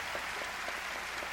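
Thousands at a university commencement rise and clap for the president, a continuous, even roar of applause with no breaks and no voices.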